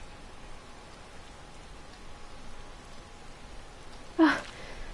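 Falling rain in the video game Final Fantasy XIV: a faint, steady hiss of rainfall with a single brief louder burst near the end, no talking.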